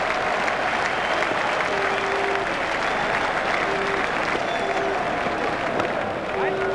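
A cricket stadium crowd applauds and cheers a big shot during a South Africa versus Australia one-day international, a steady roar of clapping that carries on beneath a commentator's voice.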